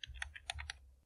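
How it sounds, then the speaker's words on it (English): Keys click on a computer keyboard during command-line work in Ubuntu, about six quick, light, close taps in an uneven rhythm over roughly a second. "Again hit enter."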